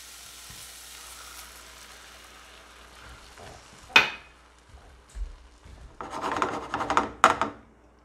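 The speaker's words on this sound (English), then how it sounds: "And then we'll go ahead and throw in our eggs." Eggs sizzling in a buttered pan for a breakfast burrito: a quiet, steady frying hiss with a sharp crackle burst near the middle and louder clattering, scraping bursts toward the end.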